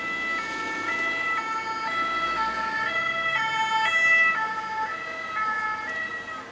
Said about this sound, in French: Alors là, les sirènes elles viennent d'en face.